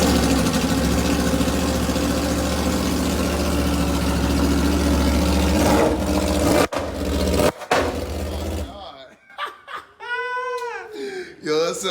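Sport motorcycle with a loud aftermarket exhaust idling and revving close by, a dense roar that cuts out abruptly, followed by a brief whine and voices talking.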